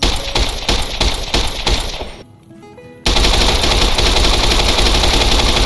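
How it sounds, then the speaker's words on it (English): Rapid, loud automatic gunfire from blind firing behind cover in the video game Fallout: New Vegas, a steady volley that breaks off briefly, then resumes as a continuous roaring burst. "Your fire rate whilst blind firing from behind cover is too slow."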